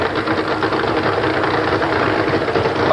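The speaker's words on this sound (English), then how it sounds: "it sounds like Gene Snow has turned off his engine" The engine of a drag racing car at the 1985 ADRA Spring Nationals in Tulsa runs loud and close with a rough, steady, knocking rumble.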